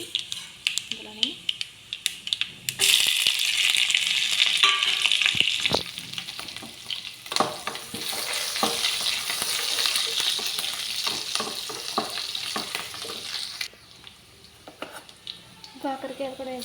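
Onions, green chillies, mustard seeds and cumin frying in a pan for an onion masala fry, a loud, continuous sizzle with stirring scrapes and clinks, and a voice talking at times.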